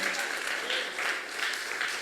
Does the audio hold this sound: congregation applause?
yes